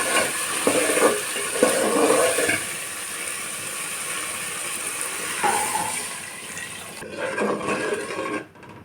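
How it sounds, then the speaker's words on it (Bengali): Mustard paste being stirred in a frying pan for a fish curry, giving a steady wet sizzle and scraping with a few louder swishes before quieting near the end. "সরষে বাটাটাকে একটু নেড়ে চেড়ে জল দিয়ে দেবো"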